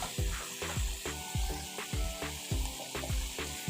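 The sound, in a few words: chopped vegetables frying with onions in a pan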